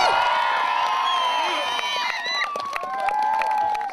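A crowd of campers cheers, whoops and shouts loudly and continuously after an act at a summer camp show, with children's voices prominent throughout.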